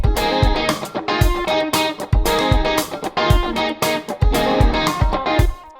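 A full rock groove pairs steady kick, snare and hi-hat hits with thick, distorted electric guitars playing sustained chords, loud and dense, with no voices.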